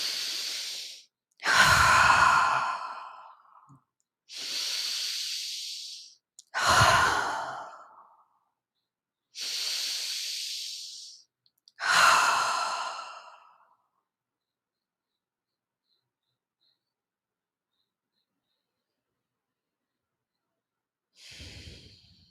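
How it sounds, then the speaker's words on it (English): Five strong, deliberate breaths, each a long inhale drawn through the nose and an audible exhale pushed out through the mouth, evenly spaced in a quiet room, followed by a long silence and one faint breath at the end. "take 3 deep breaths in through the nose and out through the mouth"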